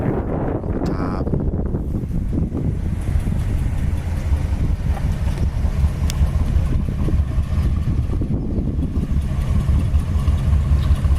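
A 1957 Ford Thunderbird with an older exhaust idles steadily, a low continuous rumble mixed with wind buffeting the microphone and a brief clank near the start.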